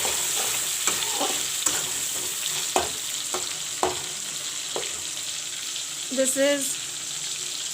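Chopped tomatoes fry in a pan for a village-style fish curry, a steady sizzle with soft stirring knocks against the pan and a short bubbling burst near the end, under a few brief spoken words.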